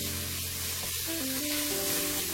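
Chopped onion sizzles in a hot pan as it turns translucent. A steady, dense frying hiss continues close by for the whole moment, with a faint tonal hum underneath.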